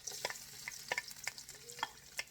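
Garlic frying in a hot wok for pork adobo, a steady bright sizzle broken by several sharp scraping stirs of a utensil against the pan, close and moderately loud with no voices.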